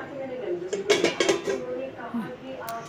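A lid lifted off a cooking pot of simmering fish curry, a few metallic clinks and scrapes close by, while a person talks over the clatter.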